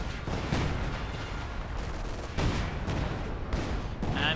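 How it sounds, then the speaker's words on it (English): Howitzer artillery in the Company of Heroes 2 strategy game booms several times in an irregular sequence, sharp loud blasts over a busy background of battlefield gunfire and explosions. "Howitzer fires again."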